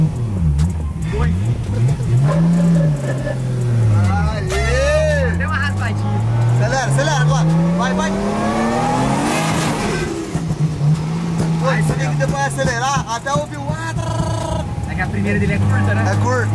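Nissan 350Z sports car engine revving hard while drifting, loud sweeping rises and falls in pitch close by, with people talking over it.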